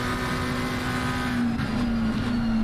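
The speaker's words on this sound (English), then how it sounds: "2 downshifts, a little bit of a squirt of throttle, 2 downshifts again, hook up this apex, accelerate out" Simulated race car engine at Misano, a buzzing close-up drone that dips briefly in pitch as it downshifts, then climbs again under throttle, with no talk.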